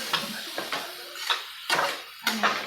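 A spiced eggplant curry is stirred in a pan, producing about five short, close scraping and clinking strokes in an irregular rhythm, separated by brief quiet gaps.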